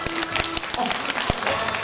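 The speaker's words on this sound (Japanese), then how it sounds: "じゃあ拍手で決めたいと思います。" Audience clapping at an outdoor mascot variety stage show, a dense burst of hand claps with a few sharp individual slaps standing out, fairly close and steady throughout.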